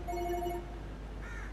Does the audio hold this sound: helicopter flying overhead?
no